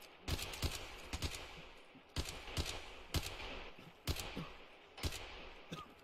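Distant gunfire in Escape from Tarkov, sharp shots arriving in small clusters about once a second with echoing tails between them, moderately faint and heard without talk.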